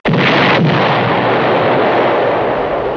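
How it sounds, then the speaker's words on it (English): A single massive film explosion booms out suddenly and loud, then a long rumbling roar trails off over a few seconds. "Wile E. Coyote doesn't cause explosions this big."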